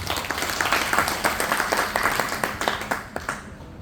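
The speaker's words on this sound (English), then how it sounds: "We shall give a clap." An audience claps at a talk in a church setting in Kaduthuruthy, steady close-up clapping from a modest crowd lasting several seconds before thinning out.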